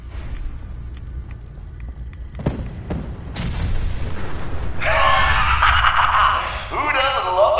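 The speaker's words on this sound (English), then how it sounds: "Who doesn't love a good explosion?" Explosions in the video game Fallout 4: a few sharp booms early on, then a heavier blast with a rumbling tail, followed by bright crackling noise, heard alongside game sounds.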